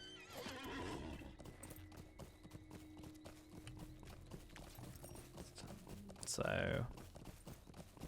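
Horse hooves in The Lord of the Rings Online, steady clip-clop footfalls with a sharp whinny near the end and a voice speaking over them.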